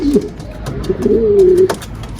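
A pair of Filo pigeons in a newly built coop, with one giving a low, drawn-out throaty coo close by amid faint rustling and soft background noise.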